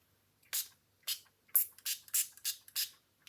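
A handheld spray bottle of plain water gives seven sharp hissing puffs in quick succession, close and crisp against near silence.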